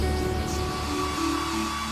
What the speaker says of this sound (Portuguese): É um secador, Rosita.